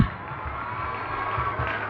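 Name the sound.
audience applause and cheering for a student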